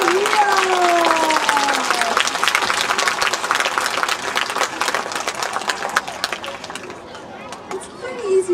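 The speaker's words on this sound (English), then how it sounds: "parrots really work for applause more than anything, so let's give a hand to Leah." Audience at a birds of prey show claps loudly in sustained applause, with crowd chatter and a voice over it early on, fading toward the end.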